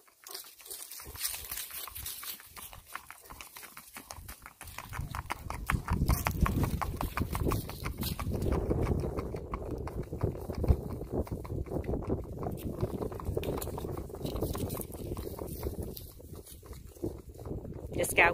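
Hooves of a Kentucky Mountain gaited horse in a four-beat rack, a quick, even clip-clop rhythm that starts faint and grows louder and nearer, steady under a low hum, with a person talking over parts of it.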